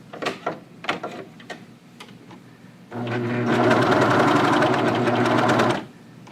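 A serger stitches a jogger cuff onto a pant leg: a few soft clicks and handling noises, then a steady, loud mechanical whir for about three seconds before stopping.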